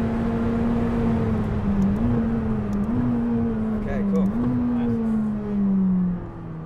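A McLaren 600LT on a race track holds a steady, droning engine tone that rises and dips with gear changes through a full lap, heard close and continuous from onboard.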